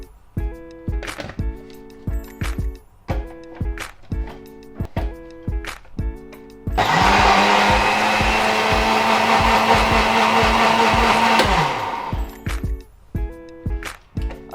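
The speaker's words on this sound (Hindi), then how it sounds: "जो मैंने 2 कप दही लिया था उसको मैं ब्लेंडर में डाल के" A blender mixing two cups of yogurt whirs loudly and steadily for about five seconds, with sharp clattering and chopping sounds before and after it.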